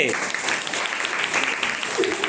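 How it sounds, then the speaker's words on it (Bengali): Loud, steady applause from an audience for young eighth-grade performers at a school music program, continuous clapping throughout with a few voices mixed in. "জোরে হাততালি হবে"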